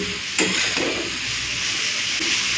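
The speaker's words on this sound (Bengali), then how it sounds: "তো এই আলু কুন্দরিগুলোকে না একটু ভালো করে ভেজে নিতে হবে" Potatoes and ivy gourd fry uncovered in a pan over a high flame, giving a steady close sizzle with a sharp clack of stirring utensils near the start.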